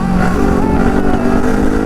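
A motorcycle overtakes a Kawasaki Ninja 300 on the road, its engine droning loud and steady throughout with a rich, buzzing tone and no pauses.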